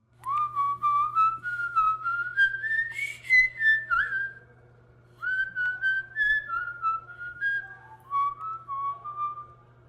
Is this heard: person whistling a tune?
yes